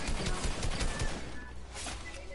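Heavy assault rifle fire in a shooter video game, rapid bursts of shots crackling close and loud over a couple of seconds.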